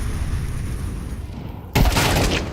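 Gunfire in a Counter-Strike esports match at IEM Katowice 2025 bursts out suddenly as a loud, sharp volley of rifle shots, cutting in over a quieter stretch of game ambience.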